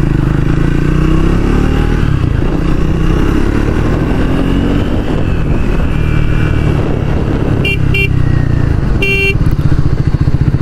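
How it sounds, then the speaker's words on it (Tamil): The stock horn on a Triumph Speed 400 motorcycle gives two short beeps followed by a slightly longer one over the bike's steady engine rumble, all recorded up close. "ஹாரன் எடுத்துக்கிட்டோம்னா ஒரு பேசிக்கான ஹாரன் தான் கொடுத்துருக்காங்க."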